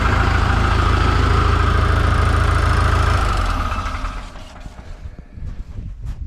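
A Scout TE-504 tractor engine idles loudly and steadily up close with a low diesel rumble, then the level drops partway through as the engine note fades, leaving quieter clatter and handling noises.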